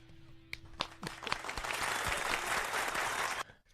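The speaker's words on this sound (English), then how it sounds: "full applause for JG" Applause for JG on a talk show swells after a few scattered claps into a soft, steady patter, then stops abruptly. It sounds quiet and distant.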